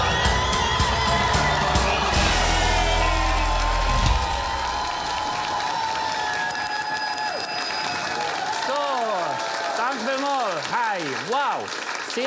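Studio audience applause and cheering from a crowd at a live German comedy show, loud and dense at first, thinning after a few seconds as music and a host's voice take over.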